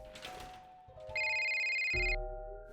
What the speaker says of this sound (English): My phone. Someone is calling me.